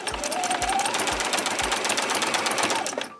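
A sewing machine runs steadily, stitching layers of a leaf-shaped placemat made from fabric scraps, with the needle left down for pivoting; a continuous close mechanical whir with a regular low thump pulsing underneath, alone with no talk.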